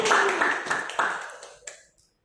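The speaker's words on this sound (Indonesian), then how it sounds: "Tepuk tangan juga untuk Mbak Reni." A small classroom group claps briefly during a micro-teaching evaluation, a quick patter of handclaps that thins out and fades to silence within about two seconds.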